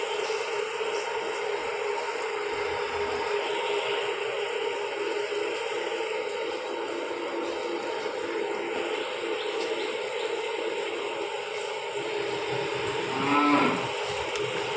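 A single low moo from a local-breed cow near the end, rising briefly over steady wind-like background noise.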